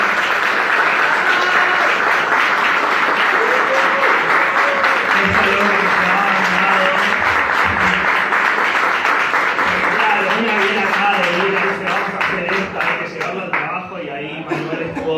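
A crowd at a live event about a new HIV law gives sustained applause, loud and dense with many hands clapping, some voices and cheers underneath, thinning and growing more uneven toward the end.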